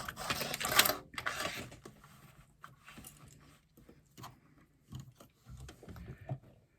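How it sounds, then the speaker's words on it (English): A sewing machine basts fabric with its lining, running in quiet bursts of mechanical stitching with short pauses and a few clicks between runs. "baste along the top and the bottom, just to secure my lining in place"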